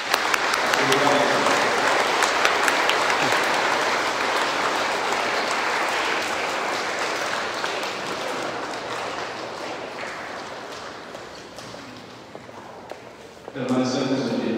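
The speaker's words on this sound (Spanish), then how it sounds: "Un fuerte aplauso a nuestras" Church congregation at a Pentecost Mass breaking into strong applause, a long sustained wave of clapping that slowly fades before a voice speaks at the very end.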